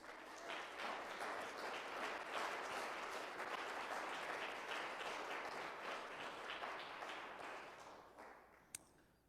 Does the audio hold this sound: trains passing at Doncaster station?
no